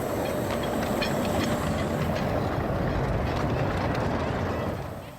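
A miniature 15-inch gauge railway train runs steadily close by, a continuous rolling rumble with rapid clickety-clack of wheels over track joints, fading slightly at the very end.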